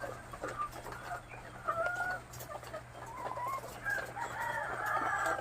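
Ready-to-lay hens clucking in a poultry house, several birds making overlapping short calls and crow-like cries at moderate distance over a constant low mechanical hum.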